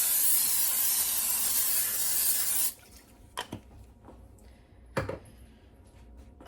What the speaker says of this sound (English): first thing that I'm going to do is spray my crock pot really good